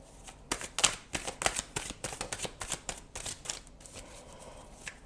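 Tarot cards are shuffled and drawn by hand in a quick, irregular series of crisp riffles and slaps, close and fairly quiet, with no talking.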